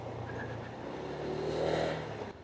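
A Honda Click 160 scooter exhaust hums at moderate volume in a steady low drone that swells briefly while riding.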